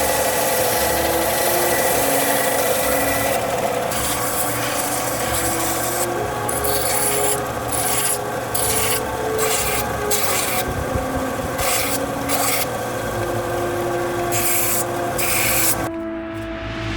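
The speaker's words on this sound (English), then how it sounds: "Now we're gonna go ahead and sand this all flat, and then we're gonna go ahead and round the edges with some hand sandpaper." Sandpaper worked by hand over a wooden book page holder to sand it flat, a continuous close rasping rub with rhythmic back-and-forth strokes and brief pauses, ending abruptly.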